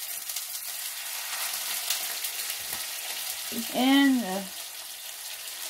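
Chicken fillet frying in hot olive or coconut oil, a steady sizzle running through the whole stretch, with a brief voice speaking near the end.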